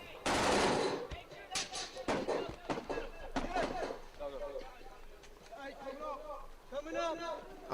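Gunfire crackles in an SAS firefight in Afghanistan, with bursts of automatic fire and sharp shots mixed under loud, continuous talk that runs through most of the clip.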